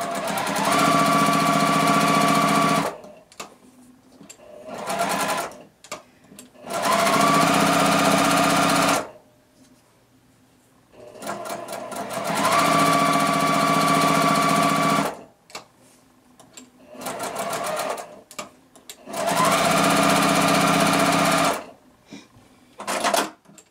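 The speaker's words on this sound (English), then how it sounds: "I'm just going to sew on this drawn line." A sewing machine stitches quilt pieces along a drawn line, running in several sustained whirring bursts separated by short pauses, close and loud.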